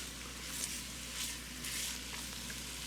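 Onions sizzling in a pot for minestrone soup, a steady close crackle and hiss that swells gently in waves over a low constant hum, with no talk.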